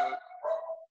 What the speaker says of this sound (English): That's my dog, Charlie.